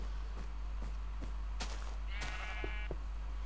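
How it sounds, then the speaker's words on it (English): Sheep bleating in the video game Minecraft, a single drawn-out bleat standing out over faint clicking game sounds and a steady low hum. "Sheep."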